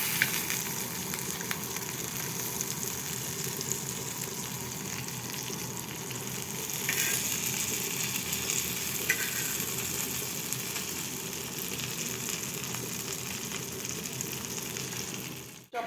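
Curly fish pieces fry in hot oil, giving off a constant, close crackling sizzle that runs unbroken for around sixteen seconds, with faint mechanical clicks and no voices.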